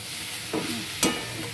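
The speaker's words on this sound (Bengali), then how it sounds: "ভাজতে ভাজতে আর একটু আলু কুঁদরিটা ভাজা হয়ে যাবে" Potato and kundri (ivy gourd) frying in a pan. A steady low sizzle runs throughout, broken by two brief scraping stirs.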